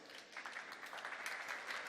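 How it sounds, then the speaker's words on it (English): Audience applause at a design conference greets a turbo machinery expert being introduced, a quiet, fairly distant patter of clapping that holds steady for a couple of seconds. "An applause."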